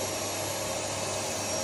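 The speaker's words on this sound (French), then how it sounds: "soit on allume la lampe et ça allume l'aspirateur" A workshop vacuum cleaner, switched on through a lamp switch, runs with a steady, loud motor whine and airflow roar, alone and unbroken.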